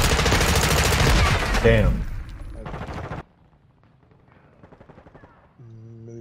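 Loud, rapid automatic gunfire in a Modern Warfare 2 beta multiplayer match roars for about three seconds and then cuts off. Quieter game sounds and a brief spoken remark follow.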